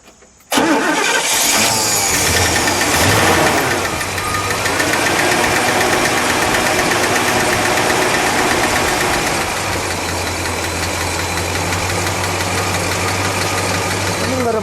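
A car engine cranks and catches after a short silence, then settles into a steady, loud idle close by with a low rumble that continues throughout.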